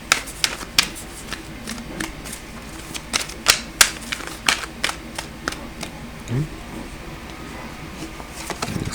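Oracle cards riffled and snapped during a reading, a series of sharp, close papery flicks and slaps in uneven bursts over a quiet room, with a faint low voice briefly in the background.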